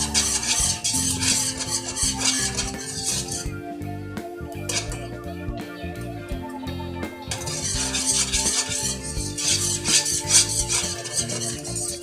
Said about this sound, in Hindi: अभी 2 से 3 मिनट के लिए और चम्मच हिलाते जाएं इसमें ताकि ये गाढ़ा हो जाए।